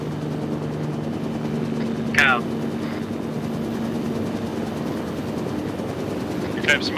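A helicopter in the ArmA 3 video game hums steadily in the background, with a couple of brief sharp bursts on top.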